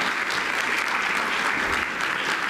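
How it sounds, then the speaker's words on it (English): A conference audience at ETHDubai 2022 claps steadily and loudly for a speaker, a dense, even wash of applause that holds for the whole stretch with no voices breaking through. "let's get Moody a big round of applause."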